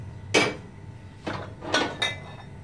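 A cooking pot is set down in a home kitchen with several separate metallic clanks and clinks of dishes, close and fairly loud, with quiet pauses between them and no speech.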